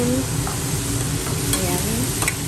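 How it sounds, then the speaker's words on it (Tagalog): Ground meat with pepper, salt and taco seasoning being stirred in a pan, a steady sizzle with repeated scraping strokes of the utensil running through all of it, close and fairly loud, with no talking. "Pepper, salt, and taco seasoning. Ayan ang ingredients na nilagay ko. Ayan, haluin lang natin ng haluin."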